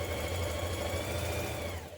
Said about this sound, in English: we're going to stitch the skirt lower side to the lower front like this